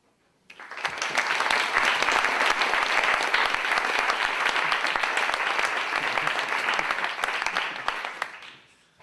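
Sustained applause from a lecture audience welcoming a speaker to the stage, a dense, steady clatter of many clapping hands that swells in, holds for about eight seconds and tapers off at the end.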